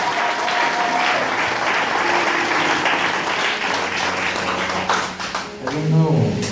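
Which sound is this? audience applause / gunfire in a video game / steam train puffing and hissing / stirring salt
audience applause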